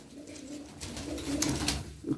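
Domestic fancy pigeons cooing in a loft, including breeds such as Baska, Bango, Dönek and Hünkari, with soft, low, continuous burbling coos that swell slightly, close and steady without speech.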